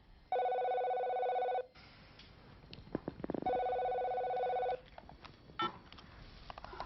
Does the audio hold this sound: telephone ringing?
yes